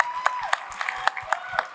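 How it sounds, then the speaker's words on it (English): Audience applause at a convention fan panel, scattered claps with sharp individual hits over a crowd murmur and faint voices. "So please give a round of applause"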